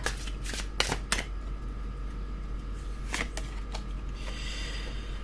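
Tarot cards shuffled and drawn by hand during a reading, with several crisp riffling bursts and card snaps up close, set over a low steady hum and no speech.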